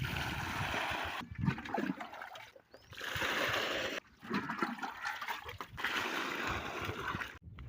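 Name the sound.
water being poured for cows to drink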